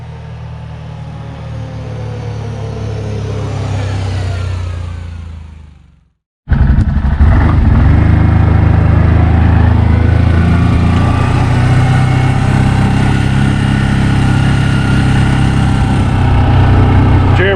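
The engine of a 2021 CF Moto Cforce 800XC ATV runs loudly and steadily up close, briefly cutting out before resuming as a continuous rough drone.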